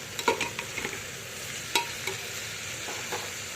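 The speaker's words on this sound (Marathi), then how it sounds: "त्यानंतर आपण वाटाणा टाकू तो पण परतून घेऊ चांगला" Peas and mixed vegetables sizzle steadily in a pan for spiced rice, with a few light spoon scrapes and taps as they are stirred, fairly quiet and close, no talking.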